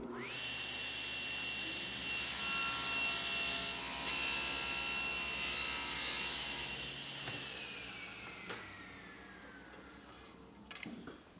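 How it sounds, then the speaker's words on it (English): A table saw with its blade tilted to 7 degrees rips a wooden board for shed window molding: a loud motor whine, then a rough cutting roar as the wood feeds through, before the motor winds down and a few clunks follow. "For the next rip, I've adjusted the blade to a 7-degree angle and set the fence at 3/8"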